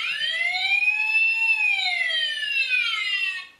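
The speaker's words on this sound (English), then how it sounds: "or the siren sound, and you get the lights light up" An electronic siren wails up and down in a steady sweeping tone, loud and close, sounding thin and synthetic, from a Transformers Dark of the Moon Leader Class Sentinel Prime toy.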